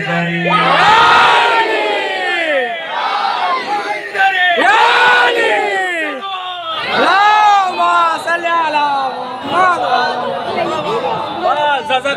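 A large religious gathering at a Fatimiyya majlis chants the Nara-e-Haidari slogan, loud and continuous, with many voices shouting together in waves of crowd cheering and calls.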